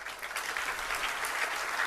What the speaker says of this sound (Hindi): ये ताली कहाँ क्यों बज रही है?